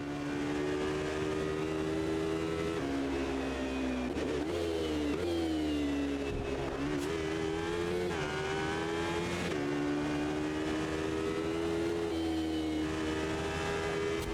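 An LMP1-style prototype race car in Automobilista 2 drones with a loud, continuous engine note. The pitch rises and dips through shifts and corners across the whole stretch, with no talking.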